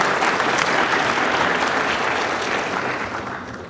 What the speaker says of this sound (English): round of applause just the same